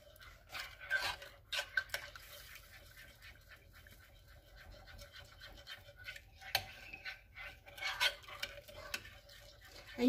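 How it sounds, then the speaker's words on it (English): A whisk stirs sugar and a pinch of salt in a bowl, giving soft, continuous scratchy scraping with faint metallic ticks, close and quiet, with no talking. "Go ahead and whisk that well."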